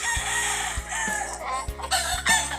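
Chickens and a rooster on a foggy farm near Tagaytay, with clucking and a crow rising over steady farmyard noise and several dull knocks, fairly close.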